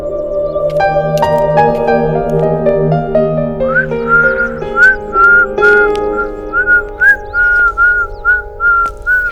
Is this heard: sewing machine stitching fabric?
no